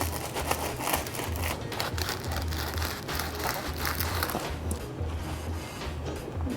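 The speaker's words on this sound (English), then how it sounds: "That is the sound of a wonderful baguette." A crusty baguette for a jambon-beurre sandwich crackles and crunches as it is squeezed, giving close, dense, irregular crispy rustling with no talking.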